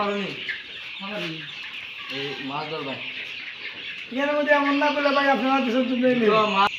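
A crowd of 1.5-month-old Fayoumi chicks clucks and cheeps continuously, close by, with a voice speaking over them near the end.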